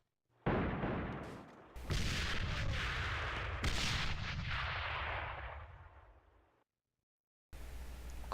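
Grenade blasts and gunfire from the first-person shooter AVA come as loud bursts of rapid shots and booming explosions with sharp onsets, separated by a brief silence before more fire.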